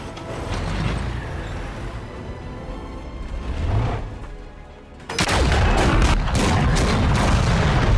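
A World War II battle scene in a film: rumbling gunfire and booms roll on, dip briefly, then a massive explosion erupts into a loud, sustained roar.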